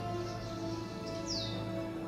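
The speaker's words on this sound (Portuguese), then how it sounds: "Acho que tem passarinho aqui perto, perto da janela. Tá fazendo barulho." A single faint bird chirp sounds near a window, a brief rising-falling tweet over a constant tonal hum of background noise.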